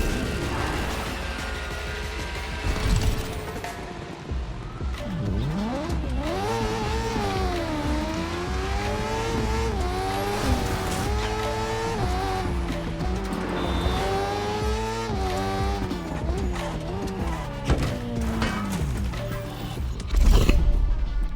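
Nissan Skyline GT-R R34 engine in a drifting video game, revving high and shifting through gears with rising and falling pitch over a sustained run, with tire noise and a hard burst at the end.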